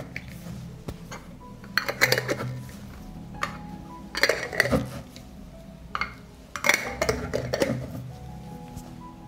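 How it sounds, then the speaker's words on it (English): Glass jars being closed with clean new metal lids, giving several separate bursts of clinks, taps and twisting scrapes, close and fairly quiet, spaced a couple of seconds apart. "I close the jars with clean and new lids."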